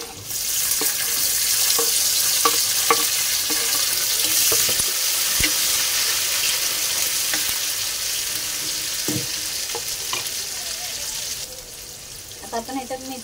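Chopped tomatoes hit hot oil with garlic and green chillies in a pan for Maharashtrian methi bhaji, a loud, continuous sizzle broken by occasional stirring clinks, no talking.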